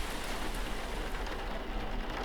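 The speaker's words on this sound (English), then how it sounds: "I love video game rain." Rain falls steadily in a video game, a dense, even hiss of drops on surfaces that carries on unbroken at moderate level.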